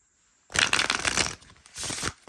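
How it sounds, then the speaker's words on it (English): Golden Age Tarot 1909 cards on quality cardstock riffle-shuffled close up in two bursts, a long crisp fluttering run followed by a shorter one after a brief pause. "I know this is going to shuffle like a dream"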